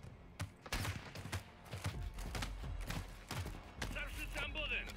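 Sharp Call of Duty: Modern Warfare II gunshots crack in quick bursts, some close and some scattered, while a voice talks over the firing.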